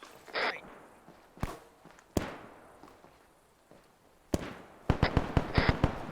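Machine gun fire in a military roleplay video game: scattered single sharp cracks at a distance, then a rapid burst of shots toward the end, with quiet gaps between.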